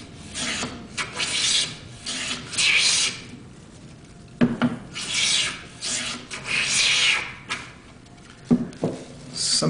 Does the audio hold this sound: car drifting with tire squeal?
no